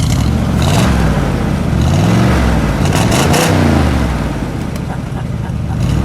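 A 1970 AMC Javelin SST's engine revs loudly up close, rising and falling through several throttle blips over a rumbling idle.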